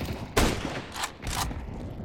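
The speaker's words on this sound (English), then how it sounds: "Nice shot!" Gunfire in a first-person shooter video game: one sharp loud burst followed by two quicker, fainter bursts, with brief gaps between them.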